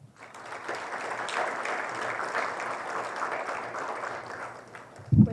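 Steady applause from an audience welcoming a speaker at a lecture held at the Ministry, dense clapping sustained at moderate level for about five seconds, with a louder thump near the end.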